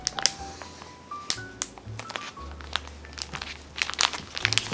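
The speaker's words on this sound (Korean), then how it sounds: "공기를 빼고 윗부분의 지퍼를 꼭 닫아주세요." A plastic zipper bag filled with blueberries and yogurt for homemade frozen yogurt is pressed flat and zipped shut, giving close, faint crinkling and crackling of plastic with small clicks spread across the clip.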